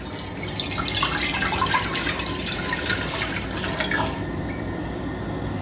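Two cups of milk pour into a thick pan on a stove, a close, continuous liquid splash and trickle that thins out and fades toward the end with no talking.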